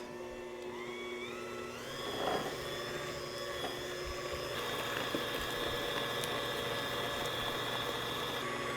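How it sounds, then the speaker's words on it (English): A blender whirring sweetened condensed milk for a chocoflan, a steady motor hum with a whining pitch that shifts slightly as it runs continuously. "I want to blend this until it's nice and smooth"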